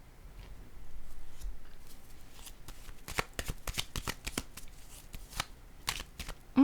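Tarot-style cards for a reading are shuffled by hand, quiet rustling at first, then a rapid burst of crisp riffling flicks, close and without talk.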